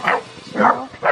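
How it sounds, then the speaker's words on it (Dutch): Dogs barking at home, three loud close barks in a steady rhythm with short pauses between them, no talk over them. "Wat zitten jullie nou weer te blaffen? Hou eens op, jongens."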